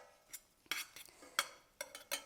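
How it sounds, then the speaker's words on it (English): Spoon stirring dried oregano through an Italian-style one-pot meal in a pan, several separate clinks and scrapes in an irregular rhythm, close and fairly quiet, with no talking. "we're just going to stir that a little bit until that's mixed"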